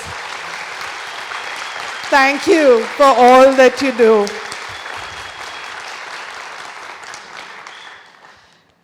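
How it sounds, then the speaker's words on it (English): Steady audience applause at a talk on queer rights in India, a continuous crowd patter with someone speaking briefly over it before the clapping fades out. "so we can give you a round of applause"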